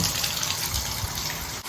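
Tap water gushes steadily into a bathtub in a guest bathroom, a dense continuous rush close by, cutting off abruptly near the end.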